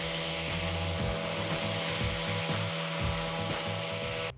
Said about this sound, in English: now we can just work on doing some sanding, which is gonna take quite a bit of sanding as well